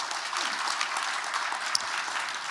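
An audience at a panel discussion on North Korean human rights applauds steadily to welcome a speaker, a moderate, even patter of many hands clapping at a slight distance.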